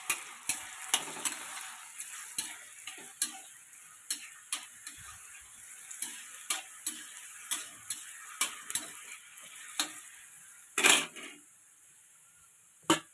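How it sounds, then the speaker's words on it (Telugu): Onions and green chillies fry in hot oil, heard as a steady close sizzle broken by regular clicking taps of a spoon against the pan, with a louder clatter near the end. "ఆయిల్ బాగా వేడైన తర్వాత ఉల్లిపాయ పచ్చిమిర్చి వేసి బాగా వేయించుకుంటున్నాను"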